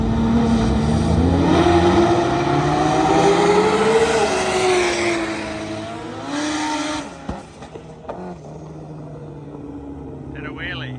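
A 1000hp Honda K24-powered drag car makes a pass, its engine screaming and rising in pitch through the gears, loud and close, then cutting off abruptly to quieter rumbling and crowd noise.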